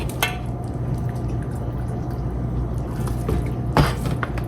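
Corn cob juice being poured back into a pot while making corn cob jelly, a steady liquid trickle and splash with a brief louder gush near the end, close by.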